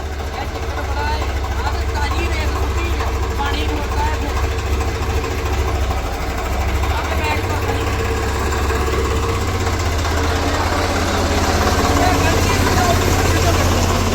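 A steady low tractor engine rumble idles continuously throughout, with faint background voices and clatter mixed in.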